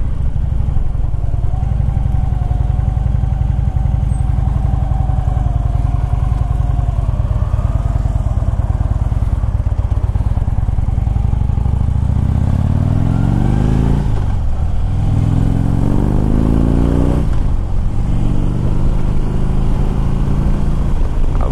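A 2011 Harley-Davidson Ultra Limited with the 103 engine rumbles steadily while being ridden, then its engine note climbs through a couple of rising accelerations near the end; the sound is loud and continuous, with no talking.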